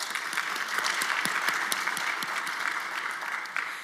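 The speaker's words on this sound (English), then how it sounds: "Give him a round of applause." An audience at a ceremony and celebration breaks into applause, a dense, lively clatter of many hands clapping close by that holds steady and then starts to fade slightly at the end.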